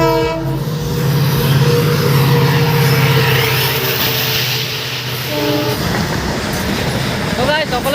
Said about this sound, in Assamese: মালগাড়ী ট্ৰেইন আহি আছে